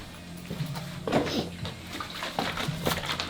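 Antifreeze poured into the cooling system of a 2008 Land Rover Freelander 2 during thermostat replacement, a close sloshing glug of liquid in uneven surges.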